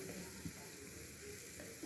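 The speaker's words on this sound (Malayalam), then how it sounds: "ഇതിൽ വെളിച്ചെണ്ണ ഒഴിച്ച് ഈ മിക്സിയിൽ അരച്ച് വെച്ചിരുന്ന അരപ്പ് ഇടുക ഇട്ട് ഈ തേങ്ങ നന്നായിട്ട് മൂപ്പിച്ചെടുക്കുക" Coconut and spice paste frying in coconut oil for a Kerala-style coconut chutney, giving a steady close sizzle with a few soft stirring knocks and no talking.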